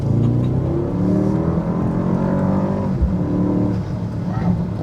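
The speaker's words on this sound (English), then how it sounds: "I love the sound from these engines, the V8s and these AMG models." A 2024 Mercedes-AMG GLS 63 SUV with a 4-liter V8 accelerates, its deep engine note heard steadily from inside the cabin with a low rumble and faint rising tones throughout.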